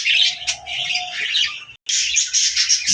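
Doves bathing give close, repeated chirping calls over a steady bright hiss that cuts out briefly near the end before resuming.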